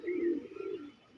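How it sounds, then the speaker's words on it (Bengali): A pigeon coos once, a soft low rounded call, faint and close, with nothing else audible around it. "পায়রা দেখে নিতে পারেন, পায়রা খারাপ না"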